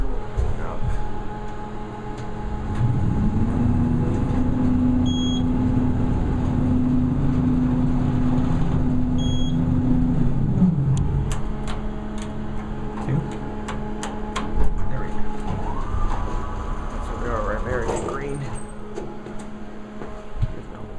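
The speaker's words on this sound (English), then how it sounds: "this is a basic Thyssenkrupp ISIS elevator" A Thyssenkrupp ISIS elevator running, a steady motor hum rising into a sustained drone that holds for several seconds and then drops away, with faint mechanical clicks and background noise around it.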